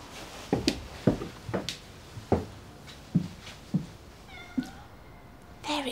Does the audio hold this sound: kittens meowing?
yes